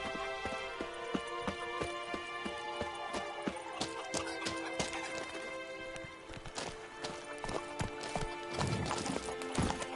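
A horse in The Witcher 3 video game runs with rapid, continuous clip-clop hoofbeats, up close, over a busy background of game sounds and music.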